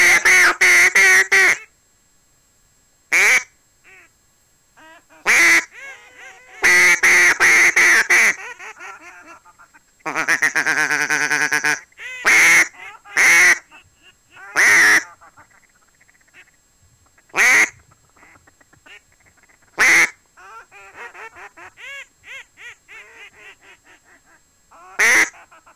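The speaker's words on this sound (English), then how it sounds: "We got a flock of ducks as well circling us right now." A flock of ducks circles overhead, loud quacks arriving in sharp clusters and single calls with brief silences between them, one long burst of rapid quacking in the middle.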